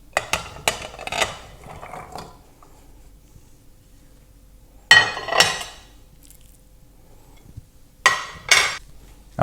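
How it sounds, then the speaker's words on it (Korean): Prepared curry ingredients are tipped into a pressure cooker in three separate bursts of clattering, clinking metal and scraping, with quiet gaps between them and no speech. "이 준비된 재료들을 이 압력밥솥에다 넣으시는 거예요"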